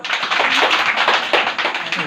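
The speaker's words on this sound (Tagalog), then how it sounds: "Sige, tatlong palakpak." Pupils in a classroom at a school feeding program clap their hands together in a quick burst, dense and fairly loud, with a few voices mixed in.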